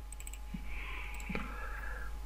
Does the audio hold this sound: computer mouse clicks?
yes